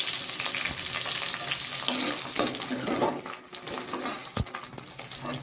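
Onions fry in oil over popped mustard and cumin seeds for a mushroom gravy, giving a loud, continuous sizzle with stirring scrapes. The sizzle eases and turns patchier toward the end.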